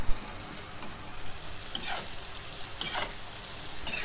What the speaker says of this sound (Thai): อันนี้เวลาทอดใส่เกลือลงไปเลยนะคะ